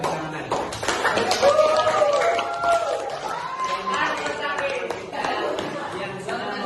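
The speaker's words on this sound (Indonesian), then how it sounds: "Kita beri tepuk tangan." Applause breaks out from a gathering of students and teachers. The clapping is a dense, ongoing patter mixed with crowd voices and chatter throughout.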